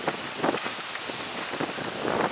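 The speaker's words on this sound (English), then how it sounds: "Ooh, it's windy." Wind gusts blow outdoors during a blizzard, making a soft, uneven rushing and buffeting noise with the rustle of the microphone being hit, moderately loud and continuous with no voices.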